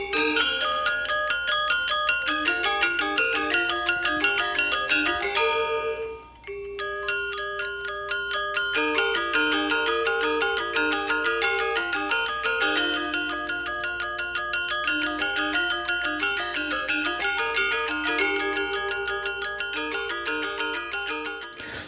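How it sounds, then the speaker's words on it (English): A recording of a Javanese gamelan piece, dense layers of ringing metallic gong and metallophone tones in fast steady interlocking patterns, with a brief dip near the start before the texture resumes, continuous and without speech. "this is actually a recording of a Javanese gamelan piece"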